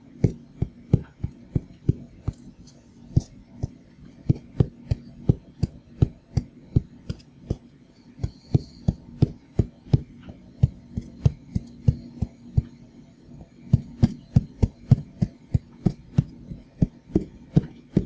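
Cardboard packaging of an Oculus Rift DK2 headset is handled in close binaural detail, giving dry, sharp taps and knocks in an irregular stream with short pauses, near and quiet.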